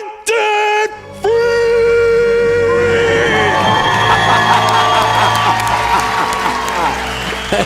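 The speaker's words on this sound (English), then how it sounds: "And the crowd in the lobby goes wild." A crowd in a lobby cheering and applauding wildly after a debt-free scream, with whoops and shouts over clapping, loud and close, preceded by a short burst of shouting.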